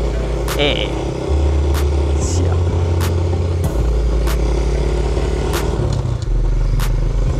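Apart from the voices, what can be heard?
mini motorbike being ridden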